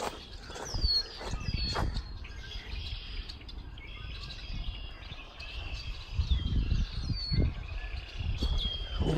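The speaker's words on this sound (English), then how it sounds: "All these bird songs just filling the air." Birds singing along a forest trail in the Ice Age Trail's Sturgeon Bay and Forestville segments, repeated clear whistling chirps and trills at moderate distance over soft footsteps and rustling.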